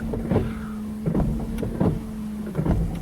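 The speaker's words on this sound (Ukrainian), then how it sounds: "Хочу ще показати прикольну штуку, що воно навіть плискає і працює стеклоподйомники." Power windows whir on a Mitsubishi Colt, a steady motor hum with repeated short clunks and surges roughly every three-quarters of a second as the glass moves, heard up close inside the car without speech.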